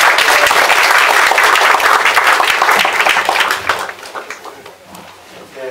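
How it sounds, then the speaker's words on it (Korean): Audience applause at a Korean art-song singalong concert in Masan, loud and dense for about three seconds before thinning out into scattered claps that fade. "다시 한번 박수 부탁합니다."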